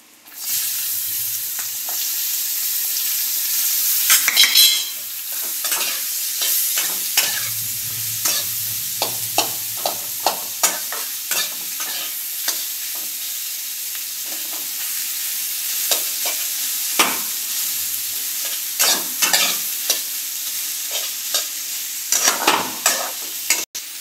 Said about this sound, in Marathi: आता आपण यात खडे मसाले आणि मिरची घालून घेऊया। नंतर कांदा घालून घेऊया।